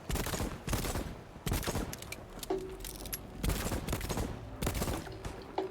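Rapid bursts of video-game gunfire from the Voidtrain game, with repeated loud volleys and short pauses between them, close and dense throughout with no talk.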